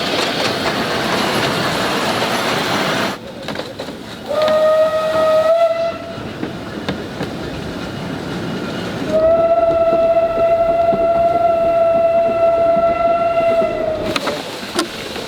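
An Isle of Man Railway train near Castletown passing close by, sounding two long, loud whistle blasts, a short one and then a sustained one, over the steady rumble and clatter of the moving carriages.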